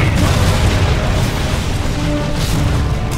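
Supersonic cluster bombs dropped by jets in C&C Generals Zero Hour erupt in a continuous, loud, rumbling roar of overlapping blasts that fills the whole moment without pause.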